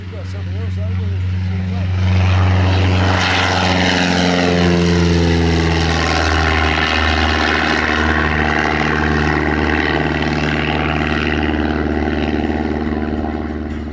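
A full-sized propeller airplane drones overhead at an air show, a loud continuous engine and prop hum whose pitch slowly shifts as it passes, with people talking faintly underneath.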